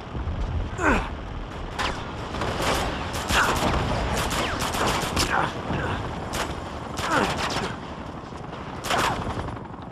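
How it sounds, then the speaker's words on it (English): Gunfire from the Uncharted 2 video game, with rapid bursts of automatic shots and single cracks recurring across the scene, loud and busy against constant in-game noise. "I'm being shot at. I'm being shot at."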